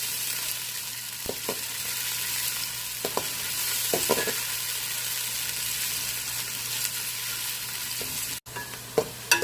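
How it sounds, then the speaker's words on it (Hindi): Onions sizzle and fry in hot oil in a pot for egg biryani, with a steady crackling hiss and occasional scrapes and taps of a spoon stirring, fairly quiet and close. "प्याज़ों को लाइट ब्राउन होने तक फ्राई करेंगे।"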